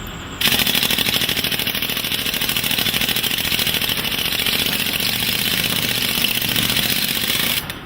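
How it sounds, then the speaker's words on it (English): A pneumatic ram compacting green sand in a foundry flask hammers out a loud, rapid, continuous rattle, starting abruptly and cutting off at the end. "For tighter compaction, he uses a pneumatic ram."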